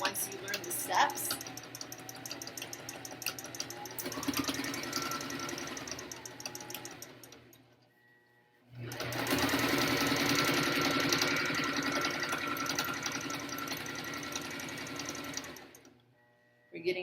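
Sewing machine back-stitching an N95 mask cover, running in a steady loud whirring burst, pausing briefly, then resuming in a second long stretch before stopping.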